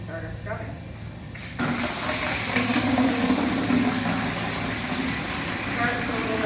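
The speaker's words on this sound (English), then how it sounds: "we're going to put some water and some bleach in this bucket" Water gushes steadily into a bucket at a wash bay for mixing with bleach, starting suddenly and running as a continuous close rushing sound, with a faint hum underneath.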